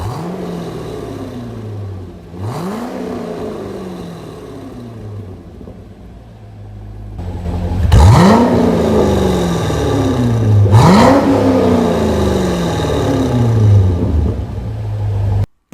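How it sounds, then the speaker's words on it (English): A 2020 Corvette C8 Z51 with an aftermarket exhaust and its baffles open revs repeatedly, four sharp rising blips over a low rumbling idle, the last two louder and closer, with no talking. "I moved over to an aftermarket exhaust that mirrored the NPP, and it changed everything on the car"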